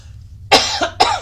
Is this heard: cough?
yes